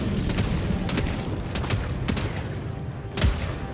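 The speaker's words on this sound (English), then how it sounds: "It's gonna explode." Rapid gunfire and booming blasts from the Helldivers 2 shooter game, a series of sharp cracks spread across the clip with one heavier thump near the end over a constant background roar.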